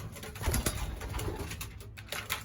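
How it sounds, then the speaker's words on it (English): Racing pigeons in a loft cooing close by, soft low throaty calls repeating over a busy background with faint rustling, no talk. "I got the young birds out for loft fly."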